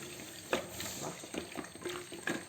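A spoon stirs sambar in a pot, giving quiet wet swishes and a few light scraping knocks in an irregular rhythm, with no talking.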